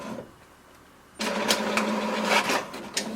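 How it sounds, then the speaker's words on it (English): An HP DeskJet 2729 all-in-one inkjet printer starts a PDF print job, going from a quiet lull into a loud, close mechanical whir with repeated clicks and feed sounds from the carriage and rollers, with no talk. "It will send a command to the printer to do the printing."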